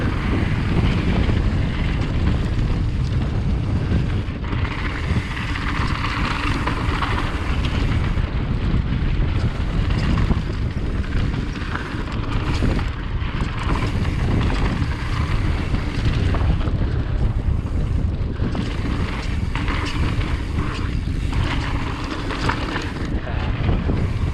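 Strong wind roars and buffets the microphone continuously, a loud steady rush with gusty surges and no break.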